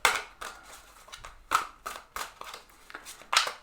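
Tarot cards being shuffled give a string of sharp, papery slaps and flicks at uneven intervals, close and moderately loud, with no talking.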